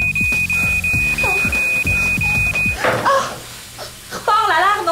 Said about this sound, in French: on s'habitue rapidement au son d'alarme constant